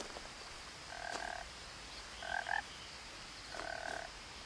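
Frogs in the game What Remains of Edith Finch give three clear croaking calls about a second apart, each a short buzzy burst, over a soft steady ambient hiss.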